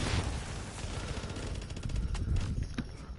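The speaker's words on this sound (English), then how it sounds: "Are you shooting at me?" Rapid bursts of gunfire from a video game skirmish, dense and continuous with sharper cracks toward the end, heard fairly loud and close with no voices.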